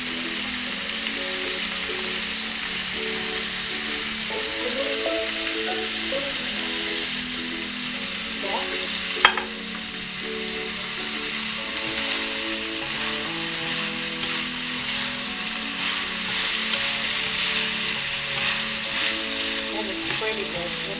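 Mushrooms and squash stir-fry in a pan, giving a long, even, close sizzle with occasional sharp clacks of stirring, one louder knock partway through.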